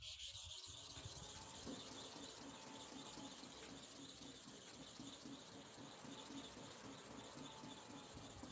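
A hair clipper blade is rubbed back and forth on a sharpening surface, giving a faint, steady rasping scrape that runs continuously without pauses.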